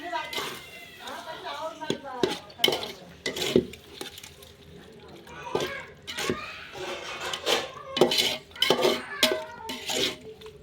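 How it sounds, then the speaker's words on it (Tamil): Chicken biryani being mixed with yogurt in a pot, with repeated spoon scrapes and clanks against the metal and a faint sizzle, close by, while a person talks throughout. "அடுத்தது தயிர் ஆட் பண்ணும் நெக்ஸ்ட்டு மிக்ஸ் பண்ணும்"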